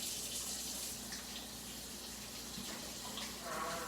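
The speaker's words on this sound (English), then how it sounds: "wash your hands before you start cooking." Water from a kitchen tap runs steadily while hands are washed before cooking, a continuous close splashing stream with no pauses.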